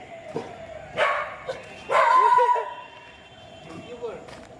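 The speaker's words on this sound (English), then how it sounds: "Now comes the attack from dogs." Dogs barking at walkers on a narrow road during a Durga Puja hike in Kolkata, a few sharp, fairly close barks in short bursts with quieter gaps between them.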